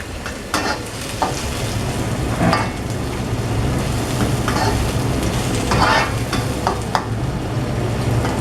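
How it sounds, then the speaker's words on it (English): Onions caramelizing in a pan for claypot rice, a loud, constant close sizzle with scattered scraping stirs and light metallic utensil knocks over it. "So the onions are caramelizing nicely."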